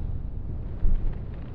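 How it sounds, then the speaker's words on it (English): Strong wind buffets the microphone in a low, constant roar on a stormy fell summit in the Lake District, with a sharper gust midway through. "it's a tad windy"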